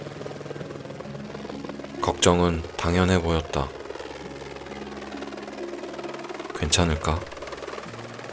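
Air force helicopter flying, a steady low droning rotor and engine buzz running continuously underneath, while someone speaks calmly over it in short phrases.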